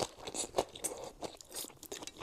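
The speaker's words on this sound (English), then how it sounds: "Chicken is perfectly crunchy." Spicy, crunchy Jollibee fried chicken is bitten and chewed up close, giving a run of crisp crunches and snaps with no talk.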